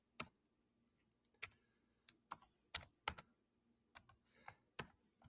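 Computer keyboard keys tapped while typing in an equation, a dozen or so sharp, close clicks in uneven bursts against near silence, with no voices.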